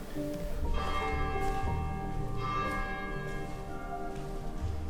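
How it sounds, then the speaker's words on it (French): Old bell in an abandoned French château struck a few times, each ring leaving bright metallic overtones that ring on and decay in a quiet room. "La cloche, elle fonctionne encore."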